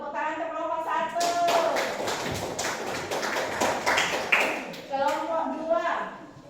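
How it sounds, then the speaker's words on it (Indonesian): Students in a classroom clap for a group amid voices and chatter, the claps coming as scattered, moderately loud taps over several seconds. "Ke tepuk tangan ke kelompok 1."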